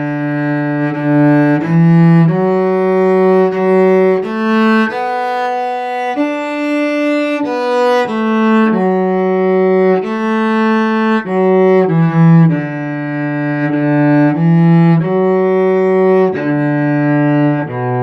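A cello plays a slow, steady Appalachian hymn melody of sustained, connected notes, rich and warm, alone without voices.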